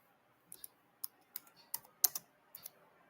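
Keys clack on a computer keyboard in short, irregular taps, around nine distinct sharp clicks spaced unevenly over a quiet background, close and fairly soft.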